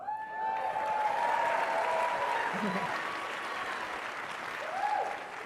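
Sustained applause from a crowd, steady clapping throughout with a faint tonal hum and some voices mixed underneath.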